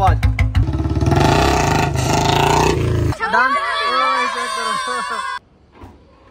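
Royal Enfield Bullet motorcycle with a modified exhaust, a loud throbbing engine note that revs and falls back for several seconds before cutting out, with voices talking over it.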